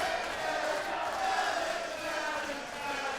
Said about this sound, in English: A rowdy crowd